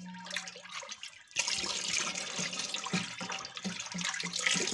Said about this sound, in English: I'll be pouring in my caustic soda now